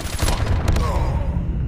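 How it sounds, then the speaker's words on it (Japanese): Fireworks going off in the mobile shooter game Call of Duty Mobile, heard as a dense burst of crackling pops over loud game background noise. A faint whistling streak trails off. "花火が上がったよ。"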